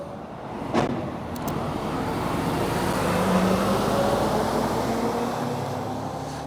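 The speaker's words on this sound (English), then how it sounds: "Wait for that car to move" A car passing on a city street, a broad rumbling whoosh that swells toward the middle and lingers steadily over background traffic noise.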